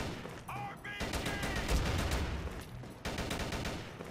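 Machine gun fire in a video game comes as dense sustained bursts, loud and close, with a brief pause before a second volley.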